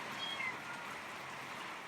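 A cat meows faintly twice in quick succession, thin high cries partly buried under the steady hiss of heavy rain.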